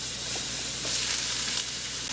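Ginger and garlic sizzle in hot olive oil with cumin seeds in a fry pan, a steady, bright crackling hiss held close and without talk for a couple of seconds.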